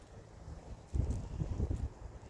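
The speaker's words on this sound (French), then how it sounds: "Il y a du vent." Cold winter wind outdoors at minus fifteen degrees buffets the microphone in low rumbling gusts, quiet at first and then swelling into repeated bursts of blustery noise.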